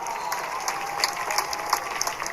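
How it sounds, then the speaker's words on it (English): Crowd noise swells in a football stadium during a high school varsity game, Manhattan High against Junction City. The roar is broad and steady, with scattered claps and cheers rising within it and no talk. "The crowd is getting loud as the handoff will be"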